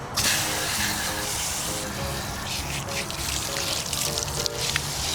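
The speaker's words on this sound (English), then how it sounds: "Time to rinse him off." Water pours and trickles steadily over a toy excavator as it is rinsed off, a continuous splashing stream close by with brief voices heard over it.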